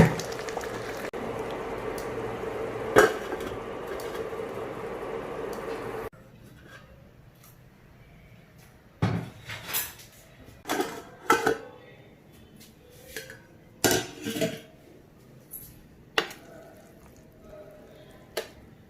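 Mutton biryani, Dindigul Thalappakatti style, stirred in a pot: a steady low bubbling for the first few seconds, then after a pause a series of loud irregular clanks and scrapes of a spoon against the pot, close by.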